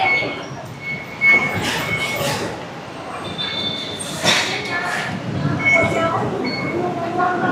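A Bangkok metro train rumbles and hums during a one-station ride, with occasional squeals and clicks from the wheels as people talk throughout.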